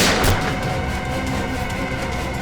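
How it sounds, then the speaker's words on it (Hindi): Gunshots fired inside a room ring out as one loud, booming blast at the start, followed by a sustained rumbling wash of noise with no speech. "इस कमरे से गोलियां चलने की आवाज आ रही है।"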